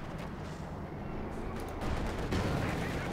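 Dense gunfire and explosions from a World War II battle in Company of Heroes 2, with a DP machine gun among the fire, forming a continuous rattling din that swells louder near the end.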